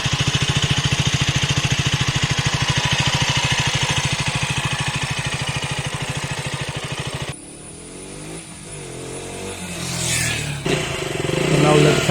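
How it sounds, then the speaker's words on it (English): KTM Duke 125 motorcycle engine idling close by, a steady fast putter for about seven seconds that then cuts out, followed by quieter handling noise and rustle. "This is the idling sound of Duke 125."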